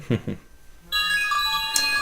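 A cell phone ringtone sounds loud and close with a sustained tonal melody, coming in right after a brief bit of talk.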